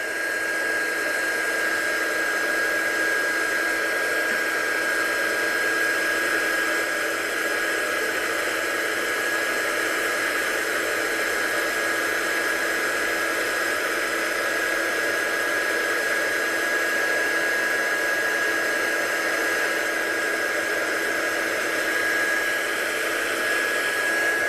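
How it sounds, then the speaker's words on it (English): A heat gun heat-setting gold embossing powder blows with a constant loud whooshing hiss and a steady high motor whine, running unbroken for the whole stretch. "I'm just getting my gun really hot. So I'm going to heat set this one."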